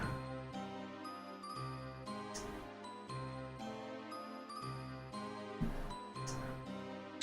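A theme from a Castlevania video game, a serene chiming melody of bell-like tones over soft synth chords with a gentle, steady pulse at low volume.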